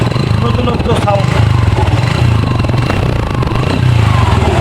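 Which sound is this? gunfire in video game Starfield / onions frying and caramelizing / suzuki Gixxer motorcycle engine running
suzuki Gixxer motorcycle engine running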